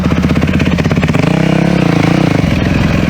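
Motorcycle engine sputtering and running unevenly, unable to rev smoothly, loud and close with a pulsing, hesitant rhythm and a pitch that rises and wavers before dropping.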